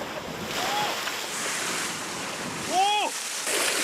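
Sea waves wash and crash against a rocky coastal fishing spot, a steady loud surge with wind rumble, and a voice briefly speaks over the water.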